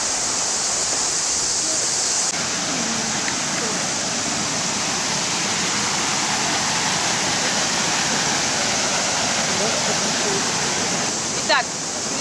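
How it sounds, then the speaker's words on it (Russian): Water roars steadily over an arched concrete dam near New Athos in Abkhazia, a locally known second waterfall, making a dense, unbroken rush with no speech over it. "перед вами бетонная плотина, которую местные жители также называют вторым водопадом"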